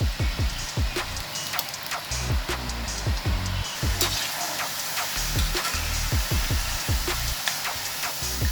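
Sev (omapodi), besan dough pressed into hot oil, fries with a steady loud sizzle and crackle throughout, broken by brief sharp pops and spatters, with no talk.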